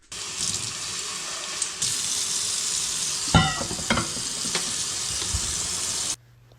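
Shaved steak sizzles steadily in a pan, a continuous loud frying hiss with a few clinks and scrapes partway through, cutting off abruptly at the end.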